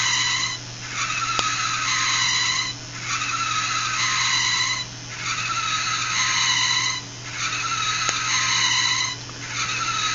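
Repeated high-pitched squealing of fischertechnik robot wheels slipping and braking on a floor, in four or five long bursts with short pauses between, over a steady low motor hum.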